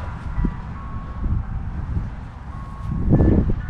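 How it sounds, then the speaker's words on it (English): Outdoor wind buffets the microphone in a residential yard, producing a continuous low rumbling roar with gusty swells that grow stronger toward the end. "Apologize for the wind"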